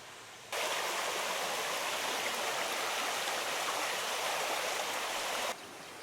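The River Dove flows through Dovedale in the Peak District near Ilam Rock, a steady, close rush of water that fades in, holds an even broadband roar for about five seconds, then drops back.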